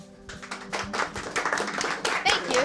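Scattered clapping from a small audience at a community event for a Brooklyn junior autistic golfers group, with uneven hand claps building slightly and voices talking over it.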